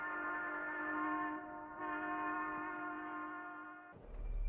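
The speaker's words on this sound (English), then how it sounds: "If the train is moving away from us, the waves are stretched, and longer waves sound lower." A passing train sounds a steady, tonal horn whose pitch steps slightly lower as it moves past and away, with no other sounds around it.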